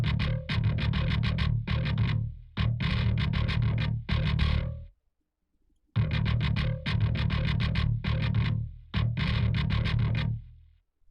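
Programmed metal bass line with fewer notes, heavily distorted, played in loud choppy phrases with short gaps, repeated twice with a brief silence between.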